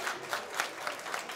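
A wedding celebration crowd breaks into steady applause, dense clapping filling the whole stretch with small surges, fairly close and loud, with no speech over it.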